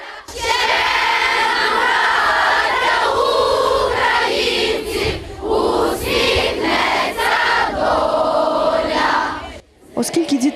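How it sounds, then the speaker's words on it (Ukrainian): A large crowd of children sings together outdoors at a school, with loud, uneven voices joining in and swelling in bursts, then breaking off briefly near the end before a last ragged outburst. "У великому натовпі дітей хтось починає співати, а решта підхоплює"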